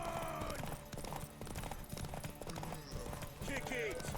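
Horse hooves clip-clop in a steady rhythm in the video game The Witcher 3, mixed under shouting voices and a brief whinny-like squeal near the end.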